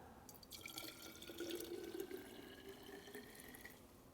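Water is poured into cherry soda concentrate, a soft trickling and bubbling fill rising in pitch slightly as the vessel fills, close but quiet with no voices.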